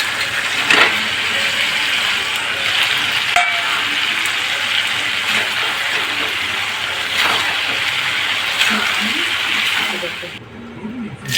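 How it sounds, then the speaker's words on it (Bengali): Marinated chicken pieces sizzle loudly in a hot pan, a dense steady frying hiss with occasional stirring scrapes, while a voice talks over it. "এগুলো ম্যারিনেট করা ছিল, ভেজে নিচ্ছে।"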